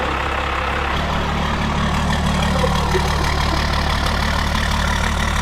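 A freshly rebuilt Cummins diesel runs after camshaft break-in with a loud, dense, steady rumble that continues without a break.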